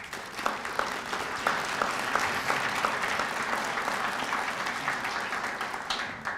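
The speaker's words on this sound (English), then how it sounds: "Hope you all will give them a big round of applause for their sponsorship tonight." Audience at a chamber of commerce annual meeting gives a sustained round of applause for event sponsors, a dense, even wash of many hands clapping in a large room, moderately quiet and steady.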